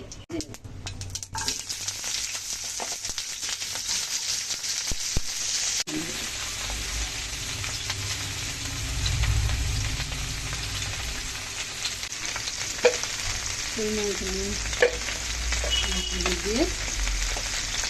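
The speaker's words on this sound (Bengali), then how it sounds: "আমি সজনে ডাঁটা উচ্ছে নিয়ে নিয়েছি আমি সর্ষে দিয়ে করব বলে সর্ষে ফোড়ন দিয়ে দিলাম" Mustard seeds tempering in hot oil with drumstick and bitter gourd, a continuous close sizzle and fry with utensil stirring, brief voice sounds near the end.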